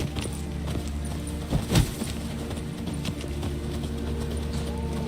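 Horse hooves clip-clopping in The Witcher 3 during a fight, a steady run of hoof beats mixed under continuous game music and ambience, with one louder thump partway through.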